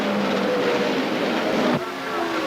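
A pack of 1975 USAC Champ Cars roars away at the start of the Pocono Schaefer 500, engines droning loudly together before one car's pitch drops sharply as it passes close by.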